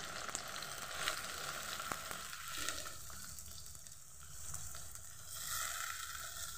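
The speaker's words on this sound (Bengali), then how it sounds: "ওই তেলের মধ্যেই আমি এবার দিয়ে দেবো কারি পাতা, তার মধ্যে দিয়ে দেবো পেঁয়াজ" Chopped onions and curry leaves fry in hot oil for a chicken biryani, giving a steady close sizzle and crackle with a brief stir in the middle and no talking.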